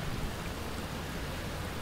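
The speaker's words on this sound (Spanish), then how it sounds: "menos mal que nunca me canso de la lluvia" Rain in the video game Outer Wilds: a steady, even hiss of falling rain, moderately loud and continuous throughout, with no talking over it.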